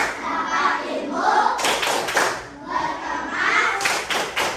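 A class of children performs the rhythmic 'tepuk pulang' clapping chant, bursts of hand claps and slaps alternating with their chanted voices in a lively, repeating pattern close to the listener.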